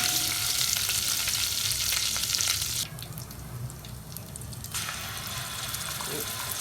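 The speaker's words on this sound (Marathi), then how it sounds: "पेस्ट चांगली फ्राय करून घ्यायची आहे" A ground spice paste for Dhangari chicken fries in a pan, a close, busy sizzle with stirring scrapes that drops suddenly to a quieter hiss partway through, then rises slightly again.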